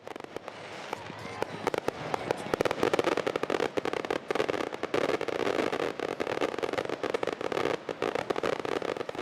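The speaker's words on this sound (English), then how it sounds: "the halftime fireworks show did not disappoint" A halftime fireworks show at a homecoming football game crackles and pops in a dense, continuous barrage of rapid bursts and sharp reports, loud and sustained throughout.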